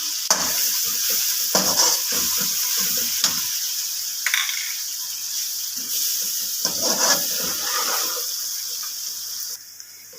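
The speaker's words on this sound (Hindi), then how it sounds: "अब मैं इसमें ऐड कर दूंगी अदरक लहसुन और इसे फ्राई करूंगी अच्छे से।" Ginger and garlic frying in a pan, a loud continuous sizzle and hiss with repeated stirring scrapes throughout.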